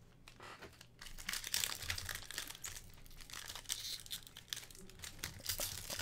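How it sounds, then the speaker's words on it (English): A foil wrapper on a 2019 Panini Spectra football card pack is crinkled and torn open up close, a stubborn pack that resists, with steady rustling and crackling bursts over several seconds and no talking. "Pack that doesn't want to open."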